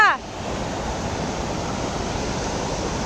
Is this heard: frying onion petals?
no